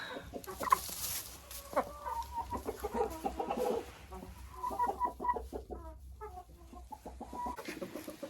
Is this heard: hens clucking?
yes